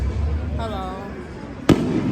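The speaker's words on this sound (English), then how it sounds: "They out here shooting firecrackers" Fireworks going off at an Atlanta Falcons rally, one sharp loud bang standing out over a noisy outdoor crowd, with a brief whistle-like rising tone just before it.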